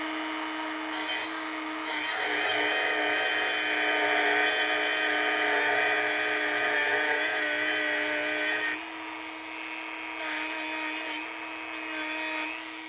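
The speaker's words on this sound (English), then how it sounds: "don't push on your Dremel hard or if at all" A Dremel rotary tool runs at a steady high-pitched whine for several seconds while cutting throttle lever parts, then cuts off, followed by a few short bursts.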